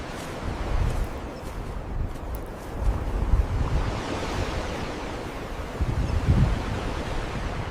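Strong wind buffets the microphone on a rocky coast while sea waves wash over stones, making a loud, steady rushing roar with surging swells.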